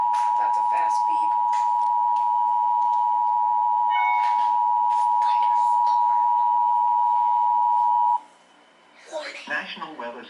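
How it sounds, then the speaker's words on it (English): A weather radio sounds a steady, loud alert tone for a severe thunderstorm warning. The tone cuts off near the end and a voice speaks. "That's a fast beep."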